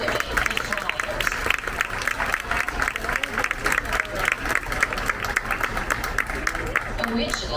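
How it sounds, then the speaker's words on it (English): An outdoor audience at Costa Maya applauds the Mayan dancing bird flyers with steady, dense clapping, joined by crowd murmur and a speaking voice. "please let's give them a big round of applause to support and motivate the flyers"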